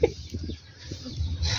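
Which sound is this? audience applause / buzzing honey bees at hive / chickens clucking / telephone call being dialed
chickens clucking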